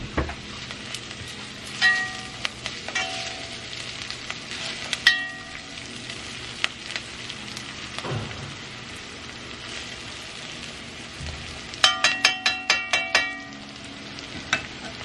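Garlic sizzles and fries steadily in hot oil for a turkey curry wings dish, with intermittent stirring clatters and a quick burst of utensil scrapes near the end; no talking.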